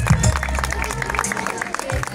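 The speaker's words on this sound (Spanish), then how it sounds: "Que se oiga ese aplauso para el sexto grado Grupo C" An audience at a sixth grade group C school closing ceremony applauds and cheers, a crowd clapping steadily and close under a loud announcer's voice.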